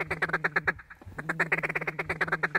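Ducks quack in rapid rhythmic bursts as they come in to land during a duck hunt, a loud run of calls, a brief pause, then another dense volley close by with no talk.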